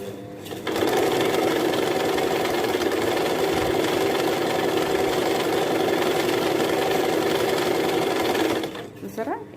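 An Usha Stitch Queen sewing machine runs steadily while winding thread onto its bobbin, a continuous loud mechanical whir lasting about eight seconds before stopping.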